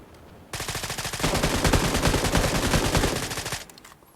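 Sustained rapid automatic gunfire in PUBG New State Mobile, a dense burst of shots lasting about three seconds, loud and close, then cutting off.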